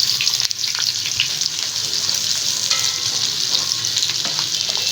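Onions sautéing in hot oil in a pan for fish curry, a loud, dense, continuous sizzle with faint scraping from stirring, heard up close with no voices.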